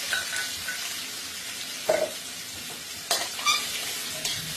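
Offal stir-fries for pad krapao in a hot pan with a loud, continuous sizzle, broken by a few sharp scraping bursts as it is tossed and stirred.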